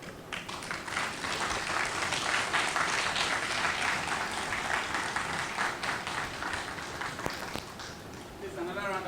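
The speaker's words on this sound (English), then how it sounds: "Please, another round of applause for her." A conference audience at a mental health awareness event bursts into dense, sustained applause after a presentation, many hands clapping at once, loud and steady for several seconds before it begins to thin out.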